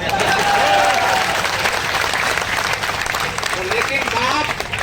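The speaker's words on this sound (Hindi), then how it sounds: "लेकिन साहब तालियां तो अब आनी चाहिए" Audience applause at a live comedy-style entertainment show in India, a dense, steady wash of clapping from a large crowd filling the whole stretch, with faint voices mixed in.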